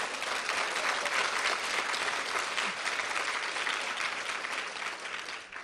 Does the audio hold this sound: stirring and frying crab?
no